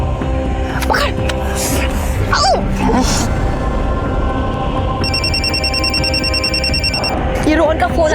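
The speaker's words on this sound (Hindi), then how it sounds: "ये रोहन का फोन आ रहा है।" A telephone rings with a repeated electronic ring pattern, loud and close, over a tense indoor scene with background murmuring and whispering voices.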